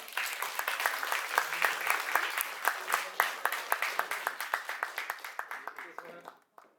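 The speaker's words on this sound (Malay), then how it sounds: "Berikan tepukan." An audience at a formal Malaysian event applauds, dense clapping at first that thins into fewer distinct claps and dies away near the end, moderately distant.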